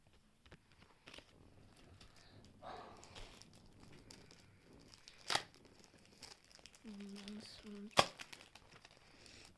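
A trading card pack wrapper being torn open, with quiet crinkling and a few sharp tearing bursts close by, and a voice talking in between.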